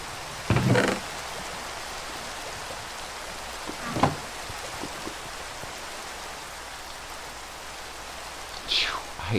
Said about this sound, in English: I hate rain in this game.